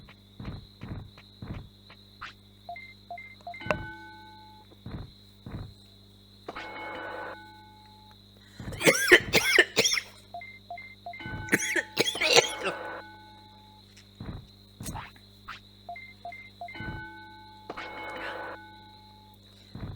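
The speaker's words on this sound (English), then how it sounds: "while I have a bit of a coughing fit." A person breaks into a coughing fit while playing Digimon World on a games console. Repeated harsh coughs and throat clearing come in clusters over a steady electronic hum, with beeping game tones and soft thuds between them.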